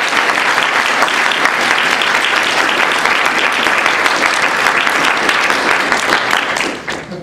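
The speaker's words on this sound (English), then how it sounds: "Please give a round of applause" Sustained, loud audience applause honoring a civil rights lawyer at a lecture event, dense clapping from a large crowd that holds steady for several seconds before tapering off at the end.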